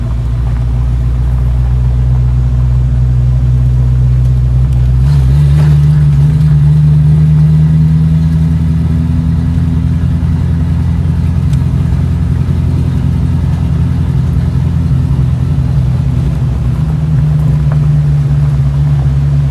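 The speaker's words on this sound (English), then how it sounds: "We're just idling along here." A car engine hums and rumbles steadily at low revs for a long stretch, close and loud, swelling slightly partway through before settling again.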